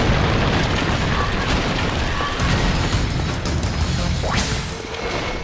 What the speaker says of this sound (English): Yurick! Hit that pillar with your magic!